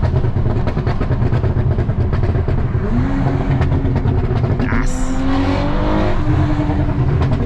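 A loud car engine roars continuously from inside the cabin, a steady heavy drone with rising revs and a brief whine midway.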